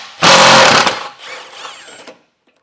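A power tool with a 15mm socket spins off a nut under a 2024 Ford Maverick: a loud close whirring burst lasting over half a second, then a quieter trailing whir before it stops.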